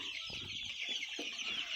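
Farm chickens cluck briefly, a few soft, close clucks over a steady hissing background, with no talk.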